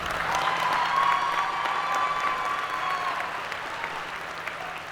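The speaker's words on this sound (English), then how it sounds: "Please, another round of applause for." Sustained applause from an audience of hundreds at a 2026 dual enrollment recognition ceremony, dense and steady, gradually easing off over several seconds.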